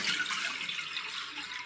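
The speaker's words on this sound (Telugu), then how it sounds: "ఒక గ్లాస్ వాటర్ పోసుకుందాం" A glass of water pours steadily into a cooking pot, a brief continuous splashing rush heard alone at moderate volume.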